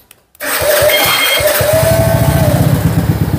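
A Honda C70 motorcycle engine catches abruptly after a brief quiet moment and settles into a loud, steady, close putt-putt idle with a fast even rhythm.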